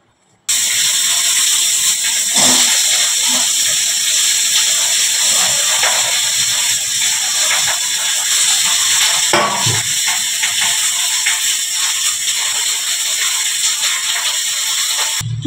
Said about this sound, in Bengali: আর এটা আগে পেস্ট করে নেবো মিক্সিতে।